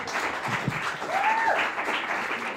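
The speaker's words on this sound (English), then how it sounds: "Give her another round of applause, everyone." A studio audience applauds for a comedian, with dense clapping under brief overlapping voices and a whoop rising above the crowd.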